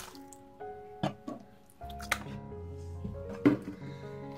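Cut stinging catfish tipped onto papaya leaves make wet squishing and dripping splats in a few separate bursts, close and fairly quiet.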